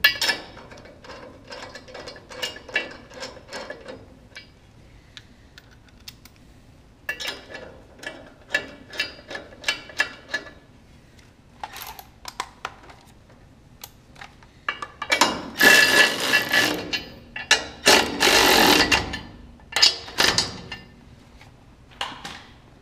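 Metallic clanks, ratcheting and tool clicks ring out in irregular bursts while a mock-up wheel is bolted onto a Ferrari 355's custom front suspension, with a louder, denser stretch of rattling near the end.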